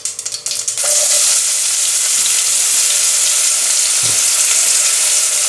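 Onions tipped into hot oil for veggie samosas, following popping seeds: a few clattering bursts at the start, then a loud, steady broadband sizzle holding for several seconds, with a soft knock near the end.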